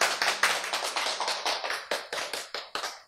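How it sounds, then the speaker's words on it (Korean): A small church congregation claps during a sermon, with a quick run of separate, fairly close hand claps that thin out and stop after about three seconds, with no talking. "박수."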